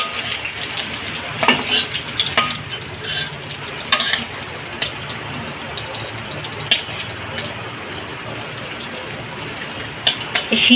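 Fried tempering for a vegetarian dal tipped into the pot, giving a busy crackling sizzle with sharp pops and stirring clatter throughout, fairly close and steady with no voices.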